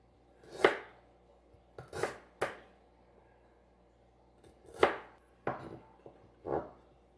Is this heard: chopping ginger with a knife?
yes